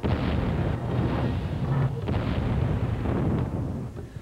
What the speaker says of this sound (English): water from the remote control fire trucks sparks a barrage of incredible explosions